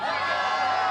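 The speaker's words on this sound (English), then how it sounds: "This big crowd down here at the Hong Kong Football Club." Big rugby crowd cheering and whooping at the Hong Kong Football Club during an Asia Rugby Men's Championship match, Hong Kong China vs Korea; a dense, steady roar fills the whole second.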